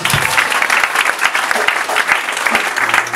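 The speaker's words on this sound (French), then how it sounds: "Acclame le Seigneur Jésus." A church congregation applauds during a sermon, a loud, dense, steady clapping from many hands filling the room, with no talk over it.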